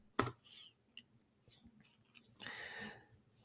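Quiet computer keyboard typing: a few scattered keystroke clicks, then a short burst of faster taps, close by in a quiet room.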